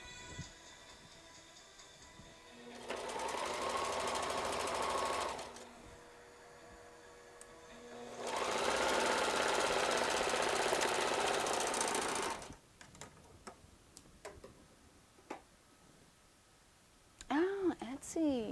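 A sewing machine runs in two long bursts of steady mechanical stitching while patchwork fabric for a coat is guided through by hand, close and fairly loud, with quieter handling noises and brief talk in the gaps.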